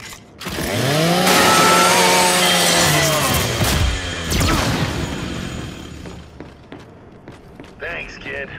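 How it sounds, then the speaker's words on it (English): Chainsaw bayonet on a Lancer rifle from the video game Gears 5 revs up loudly and grinds through a metal custodial robot unit for several seconds, then trails off into clanking debris. "Just use your Lancer's chainsaw."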